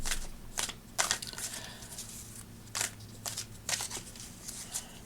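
A deck of cards is shuffled in quick riffling bursts, crisp and close, with short pauses between runs and no talking.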